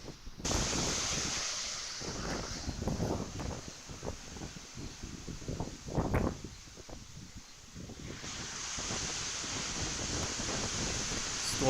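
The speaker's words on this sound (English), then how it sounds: "the water's coming up. The waves are quite large" Large surf crashes and rolls onshore as Hurricane Beryl's wind roars across the microphone, a loud, continuous wash of waves and gusts with no talking.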